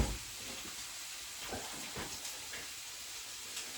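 Mince and other ingredients for a pasta Bolognese fry in a hot pan, giving a soft, steady sizzling hiss with a few faint spits and crackles.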